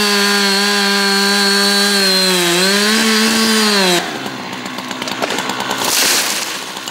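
A chainsaw revs with a steady, loud droning whine, then shifts into rougher, gritty cutting noise as it bites into wood while felling dry, hazardous trees.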